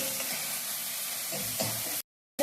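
Onions sautéing in a pan for Kerala-style chicken perattu give off a soft, steady sizzle with a few stirring scrapes, then the sound cuts off abruptly into silence near the end.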